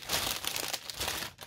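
A plastic packaging bag from a toy Pontiac Firebird Trans Am car crinkles and rustles steadily up close for a second and a half, with no talking.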